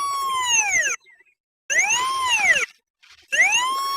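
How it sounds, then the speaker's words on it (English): Three long electronic tones from a Pipehorn 800 Series pipe locator receiver, each gliding up then down in pitch, separated by short silences; loud, close and steady. "There, a beeping tone, very strong signal, indicating our signal strength is spiked."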